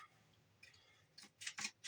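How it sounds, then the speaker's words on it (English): Scissors snipping through squashed cardboard toilet paper tubes, a few quick crisp cuts in a row near the end, close by in a quiet room. "Just cut them with my scissors."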